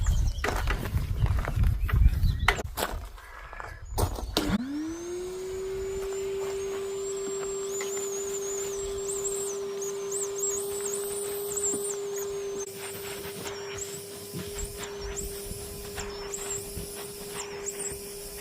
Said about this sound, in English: So that's the chair all hoovered down nicely.